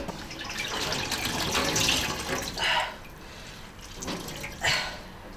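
Pickled cabbage being rinsed under a running kitchen tap, a steady splashing water stream with a few louder bursts as the leaves are handled, close and alone.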